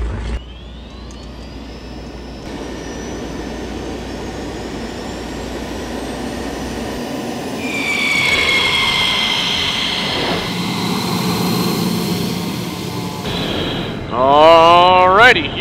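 F-16 fighter jet engine whines and roars, a rising turbine tone swelling into a loud rushing blast, then a sharp warbling surge near the end, with a person talking over it.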